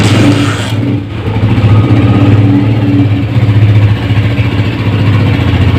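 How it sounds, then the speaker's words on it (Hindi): A 2014 Honda CG 125 motorcycle, a restored and modified Euro 2 model, fires up and settles into a loud, close, steady single-cylinder idle with a rhythmic low thrum. "तो सबसे पहले बाइक को स्टार्ट करते हैं।"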